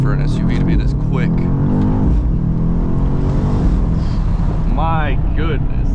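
A BMW XM Label Red SUV accelerates hard, its engine surging in rising revs with wind roar, while someone talks over it throughout.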